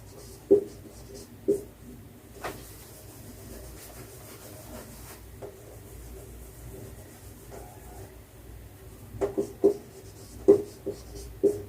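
Writing on a board during a maths class, a few sharp taps and strokes scattered over a quiet room, with a cluster of quick marks toward the end.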